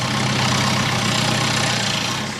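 A lawnmower engine running on biogas made from cow manure, giving a loud, steady, dense drone that holds unbroken throughout with no voices.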